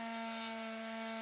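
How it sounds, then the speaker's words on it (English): Steady sanding on a boat's hull while it sits out of the water on the hard in an Alabama boatyard, a continuous rubbing, grinding drone with a strong unchanging hum throughout, close and alone. "So let the sanding begin."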